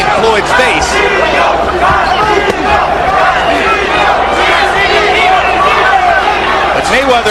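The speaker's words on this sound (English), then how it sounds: "the chant Castillo, Castillo is a bit half-hearted down the stretch of the 11th" A boxing arena crowd roars continuously at the Mayweather–Castillo rematch late in the 11th round, a loud dense wash of voices with a rhythmic chant for Castillo rising within the din.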